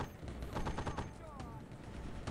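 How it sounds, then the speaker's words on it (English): Machine-gun fire in the video game Warfare, a rapid burst of dense rattling shots that fades into softer distant gunfire, with mixed battle noise throughout. "That's a machine gun squad."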